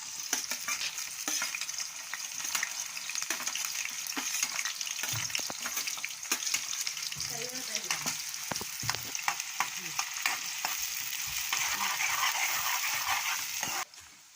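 Onions frying in hot oil in a pan for a cabbage and chana dal curry, a continuous close crackling sizzle with scattered pops and stirring scrapes, no talk, cutting off abruptly near the end.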